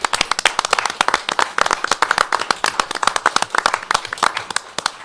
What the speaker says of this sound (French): il faut qu'on les applaudisse aussi